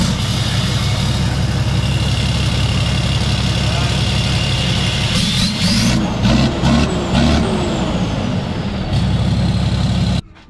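A deleted 12-litre Cummins diesel truck engine idles close by with a loud, steady, rumbling throb, with a burst of hissing air and clatter partway through and someone speaking briefly over it.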